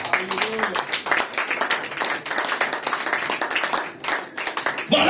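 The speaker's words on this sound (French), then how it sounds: "Est-ce qu'on peut acclamer pour le Seigneur?" A church congregation applauds for the Lord after an evangelist's call, a loud, dense round of clapping that runs throughout with scattered voices and cheers mixed in.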